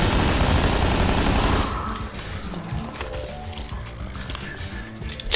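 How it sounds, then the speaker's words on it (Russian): Rapid gunfire bursts from a video game, a loud sustained barrage giving way to scattered shots and crashes. "А, это пулемет."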